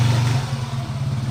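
A motorcycle passes in front of a house as a steady, continuous engine drone, fairly loud throughout and with no voices.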